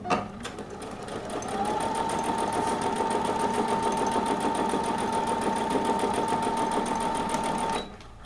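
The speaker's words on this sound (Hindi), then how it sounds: "सबसे पहले हम यहाँ से यहाँ तक इस पे कच्ची सिलाई लगा लेंगे।" A sewing machine runs a steady, continuous basting stitch down the centre of a kameez, loud and close, starting after a short pause and stopping cleanly near the end.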